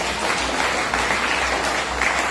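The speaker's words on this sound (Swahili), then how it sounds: "Kama makofi kwa Yesu." A church congregation claps for Jesus, giving dense, continuous applause from many hands at a steady level for a couple of seconds.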